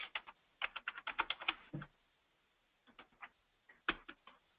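Quick bursts of computer keyboard typing, close and fairly quiet, in two clusters of clicky keystrokes separated by a short pause.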